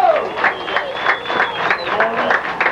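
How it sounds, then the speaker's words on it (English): A crowd at a men's college lacrosse game between Washington and Lee and UNC cheers and claps in a steady, rolling roar, heard under a commentator's constant talking. "You can hear the crowd. They like it."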